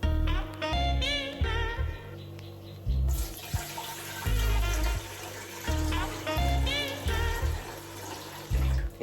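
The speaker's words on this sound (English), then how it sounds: "So guys, in my pot I'll be going in with some water." Water pours from a bowl into a cooking pot while Egusi soup is being made, with uneven splashing and gushing surges that come and go over several seconds.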